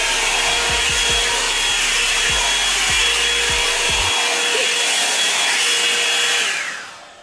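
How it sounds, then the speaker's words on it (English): A Revlon hair dryer blows with a loud, steady whoosh, with a few low thumps early on, then winds down at the end. "I just used my Revlon blow dryer to do this."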